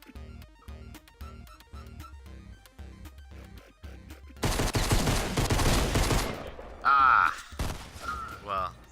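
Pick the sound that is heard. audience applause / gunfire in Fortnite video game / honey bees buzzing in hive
gunfire in Fortnite video game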